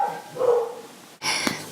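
Dogs bark indoors: a muffled whine-like call gives way to a loud, abrupt bark near the end, close and alone with no talk.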